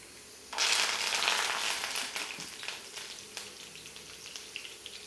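Mustard seeds splutter and crackle in hot oil for a Telugu-style broad bean pickle, a sudden loud sizzling burst that settles into scattered close pops and crackles.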